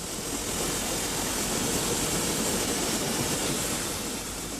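Two Beyer Peacock steam locomotives built in Manchester, numbers 1210 and 3112, run on a New South Wales line, making a steady, dense roar with no pauses.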